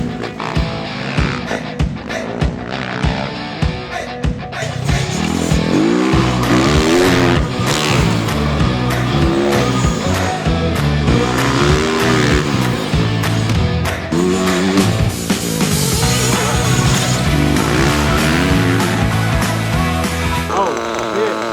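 A small RC car racing around a dirt bike track, its motor whining and buzzing as it rises and falls through laps and jumps, with tire skids mixed in, close and loud, with no talking.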